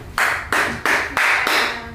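Four bursts of clapping in an uneven rhythm, each a quick wash of hand claps from a few people, fairly loud and close.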